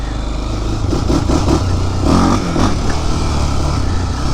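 A modified Honda 400EX quad accelerating in first gear: a loud, close, continuous engine drone that rises slightly in the middle, with rattling mechanical clatter and no voices.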